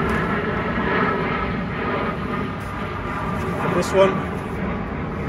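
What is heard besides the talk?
airplane passing overhead near Heathrow Airport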